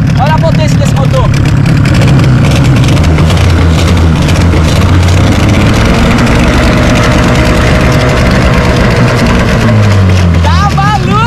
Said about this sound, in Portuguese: Motor 30 HP ligado, tá no ponto bom. Olha a potência desse motor.